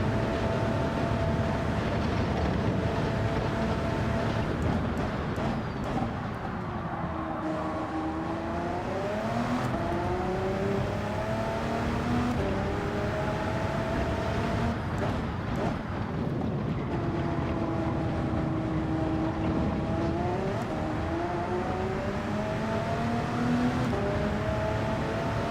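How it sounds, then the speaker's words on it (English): Race cars in Gran Turismo 7 drone continuously, engine pitch rising and falling in repeated sweeps as another car's slipstream passes at a distance, loud and unbroken throughout. "Distant slipstream from the guy that overtook us once we binned it."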